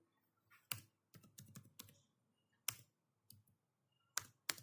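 Keystrokes on a computer keyboard as a git commit command is typed, heard as close, sharp clicks in uneven bursts and single taps separated by short quiet pauses, with no talking.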